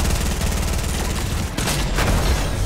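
Gunfire in Fortnite rattles in rapid, dense bursts, loud and close, with a heavier blast or two near the end over a constant game din.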